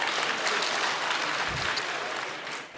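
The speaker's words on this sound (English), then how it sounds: "a round of applause, please." Dense, sustained applause from a seated audience at the Lake Chad Basin Governors' Forum in Maiduguri, a continuous roar of many hands clapping that tapers slightly at the end, with a brief low thump midway.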